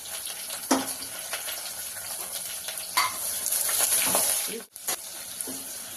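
Sliced onions and curry leaves fry in a pressure cooker with a continuous soft sizzle, broken by scattered scrapes and taps from stirring and one brief sharp clatter.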